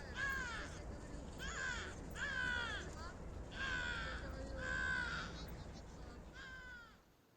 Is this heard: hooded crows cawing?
yes